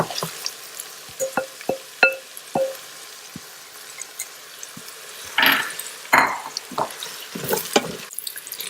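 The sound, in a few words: marinated minced lamb added to pot, frying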